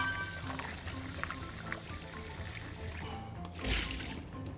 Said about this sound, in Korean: 그래서 떡을 먼저 씻어주세요.